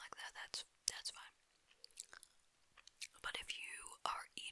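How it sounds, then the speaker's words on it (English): Gum chewing close to a small microphone, soft wet smacks and snaps scattered among quiet whispering in an intimate ASMR setting. "I like listening to gum chewing on ASMR videos"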